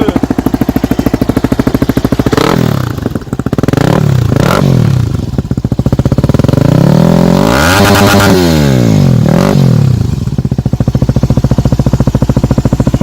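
A Yamaha 250 WR-X supermoto's single-cylinder engine thumps loud and close, idling then revving up and down in several blips, its exhaust note fairly subdued and choppy with a spark arrestor fitted.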